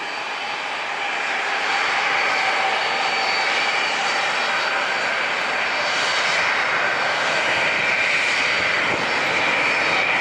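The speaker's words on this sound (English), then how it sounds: "FedEx is throttling forward." A FedEx Boeing 767 jet throttles up its engines at San Diego International Airport, a loud, sustained roar that swells and holds steady throughout.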